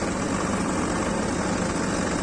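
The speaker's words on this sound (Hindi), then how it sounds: "देख रहिए थोड़ा स्पीड बढ़ा दे ट्रैक्टर की, बहुत धीरे चलना ऐसा लग रहा है मुझे" Tractor engine running steadily during a ride, a loud, continuous low rumble and drone with constant vibration and no pauses or voices.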